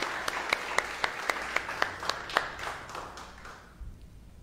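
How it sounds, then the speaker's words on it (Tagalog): A church congregation claps together in a rhythmic, evenly spaced beat, about a dozen sharp unison claps that loosen and fade out near the end of the few seconds. "The best pong palakpak ulit para kay Jesus."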